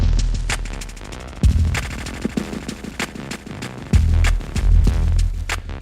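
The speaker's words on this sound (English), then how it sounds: "So this is the echo in the flex effects." Music run through the echo flex effect with filter on a Rane DJ mixer: a pounding beat with repeating echoed hits and sweeping filtered texture, loud and continuous with no talking.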